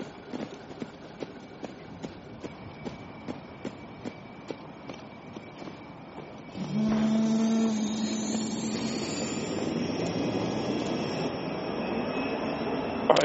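A video-game helicopter's turbine whines up and holds a rising, steady mechanical drone, coming in after several seconds of rhythmic footsteps and clattering.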